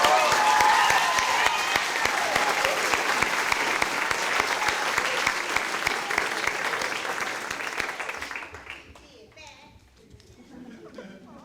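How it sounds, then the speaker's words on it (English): Audience applause fills a high school poetry slam, dense and sustained clapping with some cheering for about eight seconds before it cuts off abruptly to a quieter room. "Applaud the poet, everyone."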